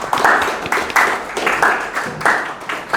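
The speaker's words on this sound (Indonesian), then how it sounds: "Tepuk tangan." Audience clapping at a university seminar on AI-driven content creation, a loud burst of applause from many hands in uneven pulses lasting several seconds, with faint voices underneath.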